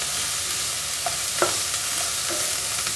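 Shallots fry in a pan with salt added, giving a steady sizzle broken by a few soft scrapes of a stirring spoon.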